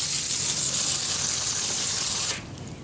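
Water spray rinsing an HVAC A-coil inside a package unit, a loud, close, continuous hiss that drops off abruptly near the end and leaves a softer trickle.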